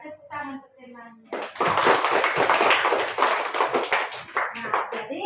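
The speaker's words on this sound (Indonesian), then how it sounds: "tepuk tangan untuk temannya." A fifth-grade classroom of children bursts into loud, dense clapping for a classmate after a teacher's brief spoken line, with children's voices mixed into the applause.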